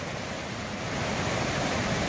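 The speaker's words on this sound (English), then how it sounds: "we're at Dismal Falls and this water is raging" Dismal Falls on the Appalachian Trail runs swollen and raging after a night of heavy rain, giving off a dense, loud, unbroken roar of rushing water close by.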